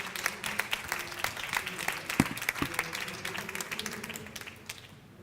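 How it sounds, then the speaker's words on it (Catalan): Audience at a business finance event claps in a moderate round of applause, individual hand claps distinct within the patter, gradually thinning and fading out near the end. "Muy bien, un aplaudiment."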